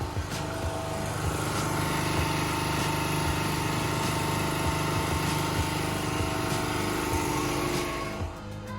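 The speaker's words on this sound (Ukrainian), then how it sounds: "ви чуєте зараз, як воно все гучніше і гучніше тарахтить, це бензиновий генератор" Petrol generator running in during break-in with a 1.2 kW heater load: a steady, close, loud rattling engine drone with a constant hum and clattering, holding for nearly nine seconds.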